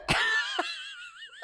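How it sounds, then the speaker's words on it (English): A person coughs sharply a couple of times after sniffing pepper, followed by a wheezy, strained breath and a short breathy sound at the end, close up. "I'm coughing."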